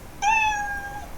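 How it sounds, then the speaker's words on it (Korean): A single short, cute cat meow sound effect plays inside a coding program, a clean tonal cry lasting under a second over faint background hiss. "귀여운 고양이 소리가 잘 나옵니다."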